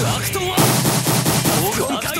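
Rapid bursts of gunfire in a Roblox shooting match, loud and close, crackling in quick repeated volleys with a brief pause near the start.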